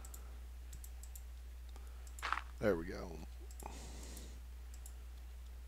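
A computer keyboard gives scattered light clicks throughout, faint and close, while someone talks briefly in the middle over a low steady hum.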